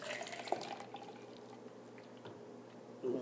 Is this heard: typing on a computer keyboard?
no